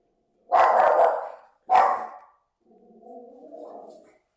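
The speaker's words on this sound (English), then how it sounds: "There was a dog going past." A dog barks in two loud, close bursts, followed by a softer whimpering or growling sound, with no talk over it.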